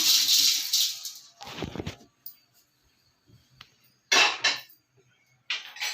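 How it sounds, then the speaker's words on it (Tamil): Roasted biryani masala spices tipped out of a hot pan, giving bursts of dry rattling and scraping with short clinks of metal, separated by quiet pauses. "இப்போ வறுத்தாச்சு கொட்டிடலாம்"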